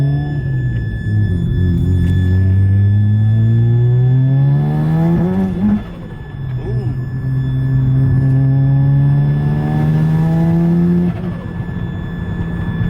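A Mazda RX-7 FD sports car engine drones loudly from inside the car while driving, its pitch climbing through gears in rising sweeps, with a dip around the middle as it shifts, then pulling again.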